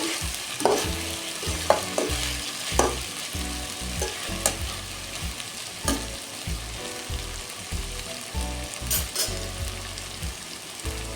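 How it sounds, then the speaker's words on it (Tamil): Potato and brinjal fry with grated coconut crackles in a pan as it is stirred, steady sizzling punctuated by repeated scraping strokes of the spoon, close and without talk. "நல்லா கொஞ்சம் தேங்காய் போட்டதுனால கொஞ்சம் கிளறி விட்டுட்டே இருந்தேன்"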